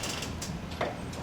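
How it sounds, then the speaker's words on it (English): The Queen Mary 2 cruise ship creaking and straining in a storm, with a soft continuous groaning and ratcheting creak of interior fittings under low rumbling noise, close by and fairly quiet. "The creaking sounds you hear are all straight from the camera."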